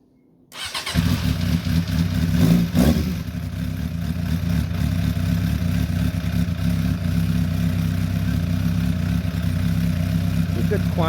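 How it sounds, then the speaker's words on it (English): A Suzuki Inazuma motorcycle with a baffle fitted in its exhaust fires up and settles into a steady, loud, close idle that rumbles evenly throughout. "I'll just let you hear it with that,"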